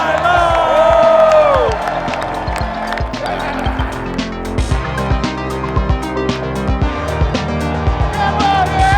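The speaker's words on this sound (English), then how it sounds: "let's give these guys one last round of applause for the season finale of HiLow!" A studio audience applauds and cheers for the season finale of a car show comparing $35,000 and $75,000 Ford Mustangs, loud and steady from the start with whoops on top, easing slightly after the first second or so.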